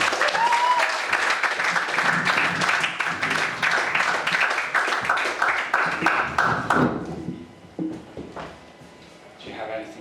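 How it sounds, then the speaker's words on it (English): An audience claps in a steady patter of many hands that fades after several seconds, leaving quieter room sounds and a brief voice near the end. "Let's give her a round of applause."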